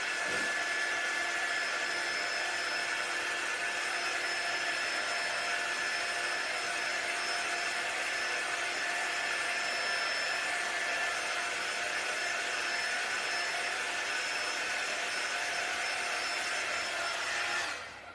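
Hair dryer blowing on a painted craft piece, a steady, loud whooshing drone running unbroken for the whole stretch before cutting off at the very end.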